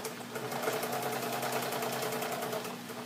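A sewing machine runs a steady straight or zigzag stitch through a large art journal, its fast rhythmic whirring and clatter close and continuous with no pauses.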